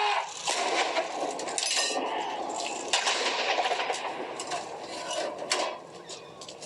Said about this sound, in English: preparing for this gun salute.